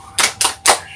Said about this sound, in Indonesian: Ibu mau mengajak anak-anak tepuk semangat dulu biar tetap semangat ya